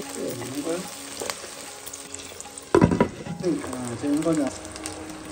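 Curry leaves sizzle and crackle in hot oil in a pan for goat head curry, with a sudden loud burst of spattering when added, then continued frying and stirring close by.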